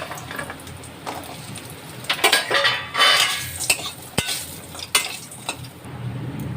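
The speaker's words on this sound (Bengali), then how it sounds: "বড়িটাকে ভেজে নেব।" Bori lentil dumplings fry in a pan for a bottle gourd curry, a soft background sizzle broken by sharp clinks and scrapes of a metal utensil stirring against the pan, fairly close.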